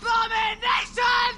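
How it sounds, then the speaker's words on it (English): A shouting painting in the Harry Potter Order of the Phoenix PS2 video game, three loud strident vocal bursts in quick succession, close and unaccompanied. "house contains a very racist painting and will constantly scream at you if you're any different"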